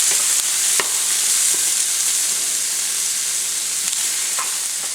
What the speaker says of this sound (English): So to this we are going to add in our peppers. And we are going to cook these for about 3 to 5 minutes till they're tender while we continue to stir them